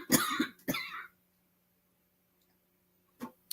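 A person gives a couple of quick, harsh coughs close to the mic, followed by silence and one faint short cough or throat clear near the end.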